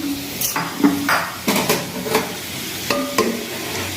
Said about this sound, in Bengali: এই গোবিন্দভোগ চালটা আর মুগ ডালটা আবার একটু নাড়িয়ে নিই ভালো করে।